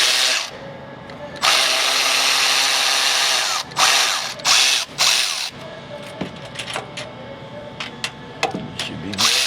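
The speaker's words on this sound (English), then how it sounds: "We're going to loosen this hose clamp." A power tool works a hose clamp on an intercooler pipe of a 2019-2024 Dodge Ram Cummins. It runs in several close, loud bursts with short pauses, followed by lighter clicks and handling noises.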